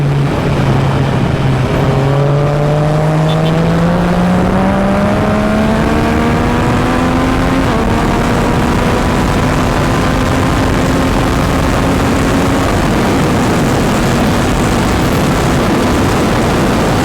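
A Yamaha MT-09 motorcycle engine climbs steadily in pitch as it accelerates on a windy ride, almost buried under a constant, loud rush of wind.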